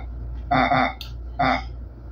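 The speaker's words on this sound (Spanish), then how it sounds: "voy a usar el sonido de este del puerquito." A pitched pig oink sample, tuned to fit a street-sounds beat, sounds twice as short nasal grunts over a low steady hum, the first doubled, the second single, with a brief high click between.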